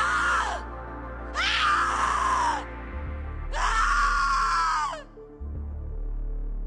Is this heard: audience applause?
no